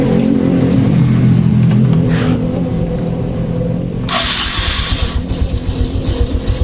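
A fuel-injected Honda Supra X 125 motorcycle engine starts and settles into a heavy, uneven idle. It begins with a churning crank, then a sharp burst, then a loud, lumpy rhythmic thumping up close.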